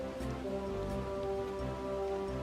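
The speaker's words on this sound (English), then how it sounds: "Now it rains in here." Steady, even rain falls continuously in a cat video game, a soft, constant patter with no talking.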